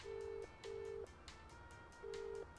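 A telephone is dialed in the Escape from Ever After video game, with long steady beeping tones repeating in an even rhythm alongside faint clicks, quiet and clean.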